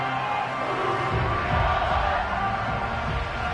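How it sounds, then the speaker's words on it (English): A football crowd in a Texans vs Titans video game erupts after a tying extra point in the fourth quarter, a dense roar that swells louder partway through. "This crowd alive again."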